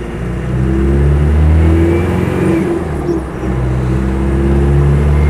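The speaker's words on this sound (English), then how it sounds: "I've got the window open now to hear the exhaust" A Land Rover Defender 90 with a 300Tdi diesel engine drones steadily while driving, with a loud, close exhaust note and gear-change dips heard from inside the cab, no talking.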